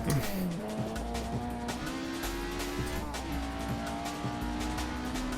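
Game car in Assetto Corsa accelerating hard on a mountain road, its engine note climbing steadily through the gears with brief tire squeal, loud and close, continuous for several seconds with no talk.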